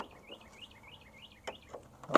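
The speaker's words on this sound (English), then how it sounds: "I wonder what that bird's saying." A bird calls outdoors with a faint, repeating series of rising chirps in a steady rhythm, followed by a few sharp knocks and a louder clatter at the end.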